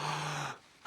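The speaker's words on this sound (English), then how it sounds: "Oh, I don't like the sound of that breathing." Cartoon character taking a long, deep breath at a doctor's checkup, a breathy half-second intake with a low tone, a brief pause, then a sharp, louder gasp at the end.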